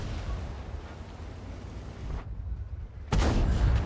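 A tank cannon fires in the World of Tanks video game, a sudden loud, booming blast near the end, heard over a continuous low rumble of battle.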